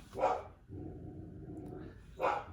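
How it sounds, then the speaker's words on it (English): Two sharp dog barks at a cat, one at the start and one near the end, with a low steady rumble of background noise between them. "That's a cat bark. She sees a cat."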